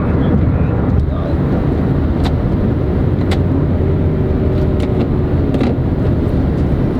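A BMW F30 328i is driven at speed with a constant roar of road and wind noise, with a faint knock or two from the suspension as it passes over a bump.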